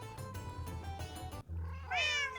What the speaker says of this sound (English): These cats are beginning to get a little bit annoying